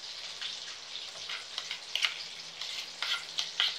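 Fish frying in hot oil, a steady close sizzle with crackling pops and spatters that swell and fade over a few seconds, no voices.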